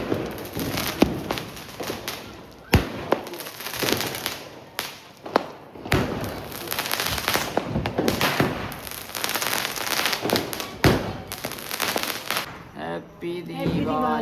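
Firecrackers going off at a family Diwali celebration: a dense, loud run of sharp cracks and thumping bangs at close range, some in quick clusters, with a few voices around them.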